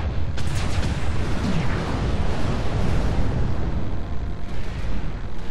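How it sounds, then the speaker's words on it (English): A heavy, sustained rumbling blast from an incoming missile explosion in a mech combat video game, loud and dense, rolling on throughout without any talk. "Warning, incoming missile."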